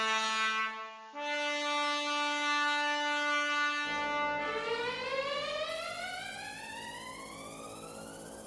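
Synthesized rendering of a Xenakis score for trumpet, trombone, violin and maracas, with sustained brassy harmonic tones giving way to rising glissandi and a dense noisy roll, loud and continuous without voices.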